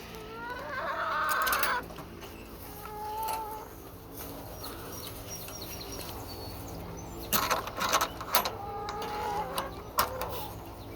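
Hens cluck on and off at a moderate distance, with a louder flurry of short clucks toward the end.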